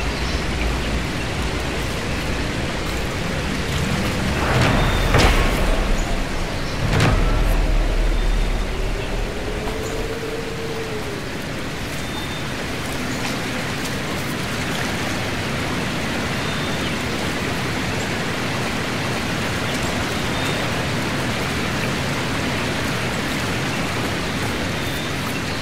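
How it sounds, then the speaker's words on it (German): A waterfall in Dragon Age Inquisition gives off a steady broadband rush that fills the whole stretch evenly, with a few brief knocks early on. "Ein Wasserfall."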